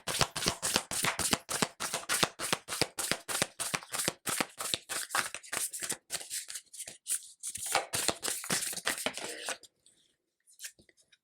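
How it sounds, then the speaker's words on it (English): Quick riffling and snapping of a deck of astrology cards being shuffled repeatedly, close and crisp, ending with a few soft taps. "So I also want to shuffle these astrology cards for you."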